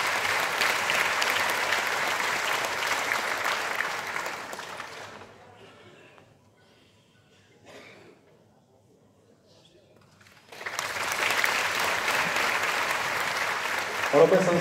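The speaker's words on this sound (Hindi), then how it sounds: "जोरदार तालियां अभिनंदन वंदन।" Loud audience applause for a government minister being honoured with a shawl at a formal function, a dense burst of clapping that fades to near silence midway, then returns just as strongly.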